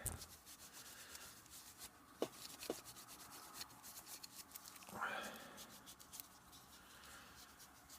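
Soft, close rubbing and wiping as paint is worked off a Master Chief model, a quiet scratchy friction with a few light taps.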